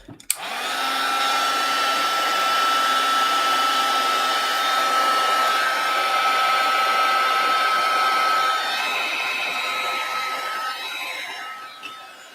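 A hair dryer blasts steadily up close, drying mixed media paint on an altered wood slice, a loud continuous whirring rush that starts abruptly, holds for about eleven seconds, then cuts off, with no talk.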